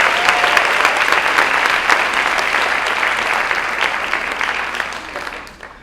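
Enthusiastic audience applause for Bonnie Hanna at a seniors talent show in Chattanooga, a thick, steady wash of clapping that gradually tapers near the end.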